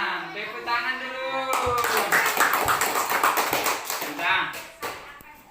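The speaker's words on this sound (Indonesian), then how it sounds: "Tepuk tangan dulu." A classroom of children claps hands together in a dense, rapid burst of overlapping claps lasting several seconds, loud and close, fading toward the end; a teacher's voice is heard briefly before it starts.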